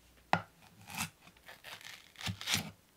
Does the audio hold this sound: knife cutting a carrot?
yes